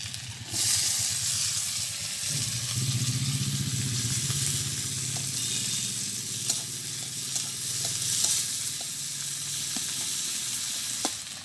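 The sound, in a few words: onion, garlic and chilli frying in oil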